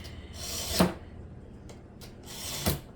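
A kitchen knife drawn along a sharpener in a home kitchen: two long rasping strokes roughly two seconds apart, with lighter scraping between them, close and fairly loud, with no talking.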